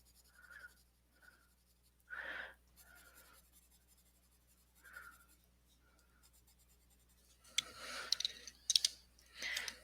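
Quiet scratchy strokes of colored pencils on paper come in short separate bursts with pauses between them, then a few louder scrapes and taps near the end.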